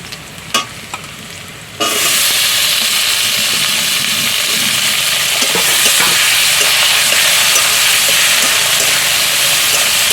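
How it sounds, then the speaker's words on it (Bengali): Chopped tomato drops into onions frying in hot oil for a Bengali rohu fish curry, setting off a loud, steady sizzle with scraping stirring throughout, after a brief quiet start; no one speaks. "পেঁয়াজটা ভাজা ভাজা হয়ে গেছে, এবার আমি টমেটো দিয়ে দেবো।"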